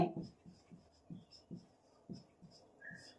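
Pen or chalk writing notes during a Hindi geography lesson on population composition, with a steady series of soft scratchy strokes under faint, quiet background noise.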